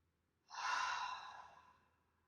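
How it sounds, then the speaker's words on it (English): A single audible breath, inhaled and exhaled through the mouth as a breathing exercise, close and soft, a smooth rush of air swelling quickly and then fading slowly, with no talk over it. "So that's one of my favorite practices is audible breathing."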